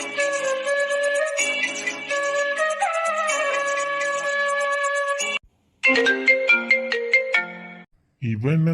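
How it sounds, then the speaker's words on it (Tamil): A melodic mobile phone ringtone signalling an incoming call plays loud and steady, its repeating electronic tones cutting off briefly before resuming and ending in a short chime. "இவன் இந்த நேரத்துல போன் அடிக்கான்."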